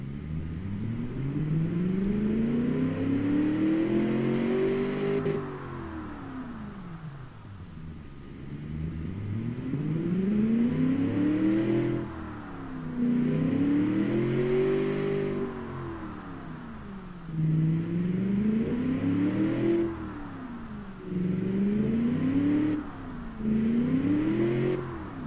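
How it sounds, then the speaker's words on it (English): A Beowulf Big Block engine in the BattleAxe V200 car revs repeatedly, each long rise in pitch ending in a short drop, rumbling close and loud with brief idle gaps between pulls. "I'll rev the engine before I give you a little bit more stuff."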